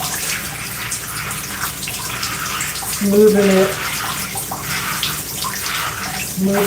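Water runs steadily over someone's head while their hair is washed, a constant close rush like a faucet or shower. A person speaks briefly over the flow.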